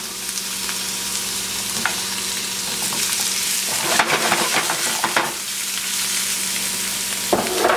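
Carrots stir-fry in oil over medium heat, a constant sizzling hiss with louder clattering spells of tossing and stirring midway and a final scrape, close and free of talk.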